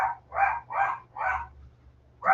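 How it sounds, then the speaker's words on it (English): Dogs inside a home bark at a mail carrier arriving at the door, four quick, loud woofs in a row, a short pause, then a fifth bark. "So my dogs are going to go nuts for a minute."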